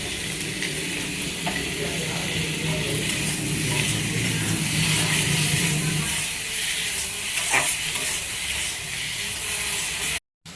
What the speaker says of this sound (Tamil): இப்போ வந்து சின்ன வெங்காயம், தக்காளி, இஞ்சி பூண்டு எல்லாம் வந்து நல்லா வதங்கிடுச்சு